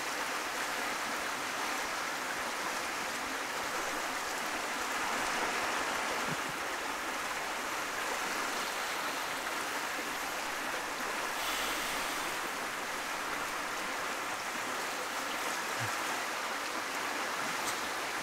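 River flowing past a water wheel at a riverside bushcraft camp in spring, a continuous, even rushing of water with faint wind and no speech.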